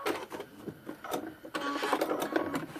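A domestic sewing machine stitches fabric for a paper-pieced prairie point trivet, running in short bursts with brief pauses between them, close and fairly loud.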